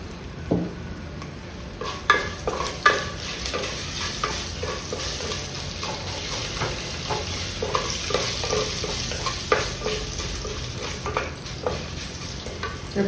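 Cumin seeds and asafoetida fry in hot oil for a dry shrimp shell rasam, with a close sizzle under repeated scraping stirs that come in uneven strokes over several seconds.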